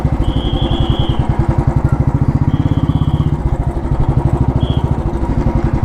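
An old Royal Enfield Bullet motorcycle idles close by with its loud, steady thumping beat, a rapid even pulse that runs throughout as the bike is parked, with brief high whines above it.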